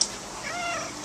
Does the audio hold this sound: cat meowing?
yes